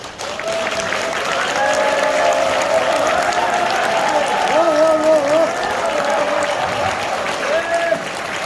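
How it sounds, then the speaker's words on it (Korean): Loud crowd applause at a party members' rally as flags are carried in, sustained clapping under a public-address voice and ceremonial music tones rising and falling throughout. "여러분 힘찬 박수로 축하해 주시기 바랍니다."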